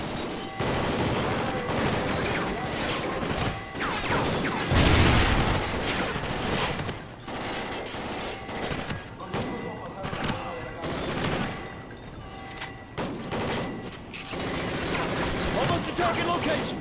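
Dense enemy gunfire in the video game Call of Duty: Ghosts, rapid bursts and automatic fire rattling almost continuously with a heavy boom around the middle, a voice talking over the shooting.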